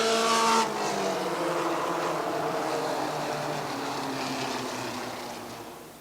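Stock cars racing on an oval track at Granby during a season finale, one car spinning out at the back of the pack; a loud engine roar opens then settles into a steady, sustained rumble of passing cars that fades slightly toward the end.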